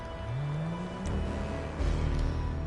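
A stolen car in GTA Online revs up in-game, engine pitch climbing then settling into a steady low drone, with a brief knock and a louder surge near the end.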